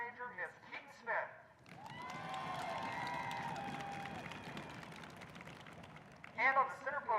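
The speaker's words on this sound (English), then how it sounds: "please give a big round of applause for junior drum major, Miss Keaton Smith." A crowd claps and cheers for several seconds at a marching band event, a broad wash of applause between stretches of amplified speech.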